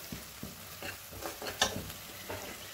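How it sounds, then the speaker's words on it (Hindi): Chana dal with chilli, turmeric and garam masala being stirred in a pan, giving a series of soft scraping strokes over a faint sizzle, close and fairly quiet, with no one talking. "अब हम इसे अच्छे से हिला लेंगे।"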